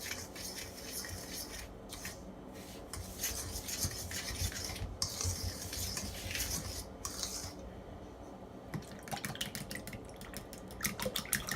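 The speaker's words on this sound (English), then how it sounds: "all you have to do is just blend your ingredients" A spoon or whisk beats cornbread batter in a bowl with continuous wet scraping and rubbing strokes, steady and close, turning faster and more rhythmic near the end.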